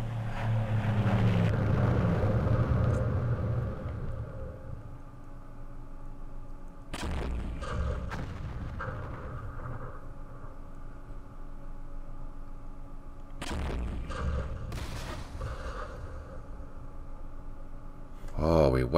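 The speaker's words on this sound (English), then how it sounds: "Another airstrike coming in." Airstrike explosions in the Vietnam war game Campaign Series Vietnam, at the Battle of Ia Drang, hit as a few sharp, loud bursts spaced through the clip, with a voice talking over a low rumbling background.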